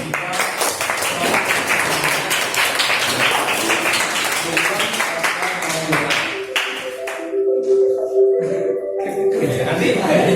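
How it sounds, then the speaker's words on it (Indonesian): A classroom of students clapping for classmates during a teaching session, brisk scattered claps that fade out midway as the room turns to other sounds. "kita kasih tepuk tangan untuk kita"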